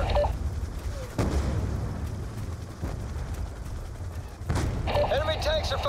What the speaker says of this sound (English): Enemy tanks are firing on the base!